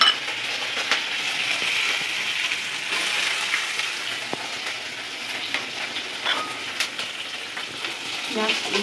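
Onion sizzling in a pan with ginger and asafoetida for sambar rice, a continuous close frying hiss with occasional stirring scrapes.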